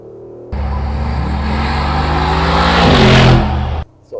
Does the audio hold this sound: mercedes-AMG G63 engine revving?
yes